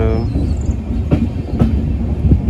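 Passenger train running on rails from Haldwani to Dehradun, heard from onboard as a steady rumbling roll with rhythmic clickety-clack wheel beats on the track joints.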